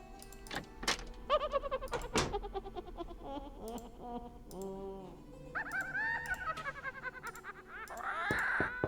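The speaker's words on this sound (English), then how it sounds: "I hear the bird" A bird calling in the Nancy Drew game Curse of Blackmoor Manor, a string of varied chirps, whistles and squawks, fairly close and quiet, with a scratchier burst near the end.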